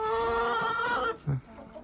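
A flock of about twenty hens and three roosters, including Araucanas, clucks close by, with a rooster calling, steady chatter and a louder clucking burst near the end.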